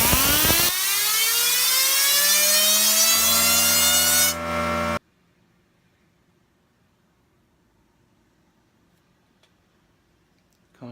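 A fidget spinner, the Salve Fee, is blasted up to speed by an air compressor, giving a loud rushing hiss with a rising whine for about five seconds before it cuts off abruptly into near silence.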